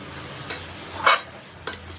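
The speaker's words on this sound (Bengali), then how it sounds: "এরপরে আমি এটা নেড়ে চাপা ঢাকা দিয়ে দেব।" Prawns with sugar being stirred in a pan, a few brief scraping strokes of the spoon against the metal, close and moderately loud over a quiet background, with no talk.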